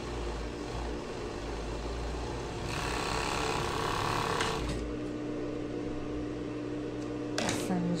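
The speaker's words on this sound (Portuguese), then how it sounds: "Vamos fazer a costura aqui." Sewing machine stitching a seam on lace panties, a steady mechanical whir running throughout at close range with a brief sharper burst near the end.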